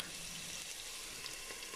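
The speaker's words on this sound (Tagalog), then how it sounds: "At i-stir fry ko po hanggang siya ay matuyo." Beef stir-frying in olive oil, a soft, steady sizzle heard faintly and at some distance, with no clear stirring strokes or voices over its brief span.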